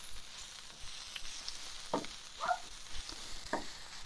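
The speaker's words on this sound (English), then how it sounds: "So the onions are browning a little bit. I'm just kind of mixing them up here" Onions brown on an outdoor griddle for steak fajitas, stirred with a utensil in cold weather. A soft sizzle runs under a few distinct scraping and clicking stirs.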